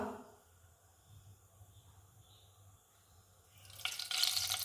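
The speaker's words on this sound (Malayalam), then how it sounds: "ഞാൻ വെളിച്ചെണ്ണ ഒഴിച്ചു കൊടുക്കുക" Coconut oil poured into a hot pan for a chicken curry, mostly quiet low rumble before a loud hissing sizzle surges up in the final second.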